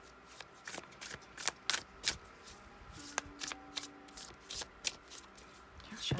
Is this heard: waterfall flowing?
no